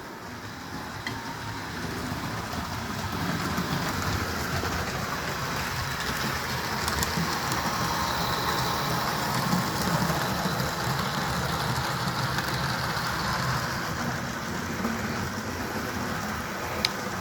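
Budget Bachmann HO scale model locomotive runs on vintage track, a steady whirring motor and rolling rattle holding even in loudness throughout, fairly close, no voices.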